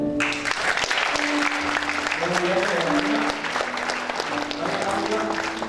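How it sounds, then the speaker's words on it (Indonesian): Audience applause at a junior guitar recital, given in honour of the young performer's parents, fills the room as steady, dense clapping with sustained instrument tones ringing underneath throughout. "saya mau semuanya tepuk tangan buat orang tuanya nih"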